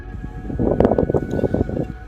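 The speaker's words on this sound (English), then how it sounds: "So kind of really windy where I am" Strong wind buffets the microphone in rough, continuous gusts during a drive to Wilpena Pound, with a low road rumble underneath and no voices.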